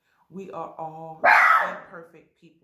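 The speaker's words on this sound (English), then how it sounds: "And that's my dog barking." A pet dog lets out a single loud, close bark midway, cutting across a person's calm speech that continues before and after it.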